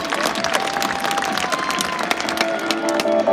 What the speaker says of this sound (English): we're all going to cheer that everybody walks out of this arena unscathed